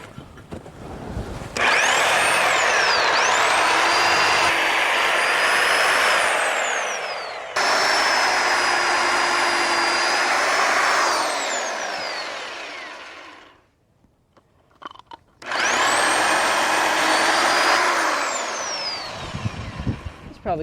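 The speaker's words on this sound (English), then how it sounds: "You can go ahead and finish drilling those holes." A power drill bores holes for post brackets, whining loudly in long sustained runs with pitch dipping as the bit bites, pausing briefly before a third run; a dull bit may be straining.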